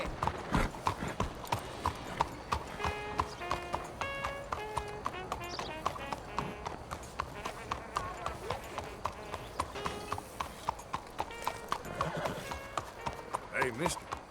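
A horse clip-clops at a steady trot on a road in Red Dead Redemption 2, rhythmic hoofbeats throughout, with game music and characters talking over the hooves.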